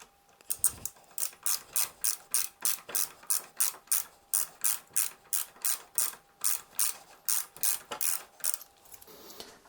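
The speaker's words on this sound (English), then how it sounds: "I'm getting close to having those screws tightened in, so I'm taking my torque wrench now" A large torque wrench ratchets in a steady, even rhythm while tightening the screws on Fehling engine guards on a Yamaha Tracer, giving about twenty crisp, close clicking strokes with no talk.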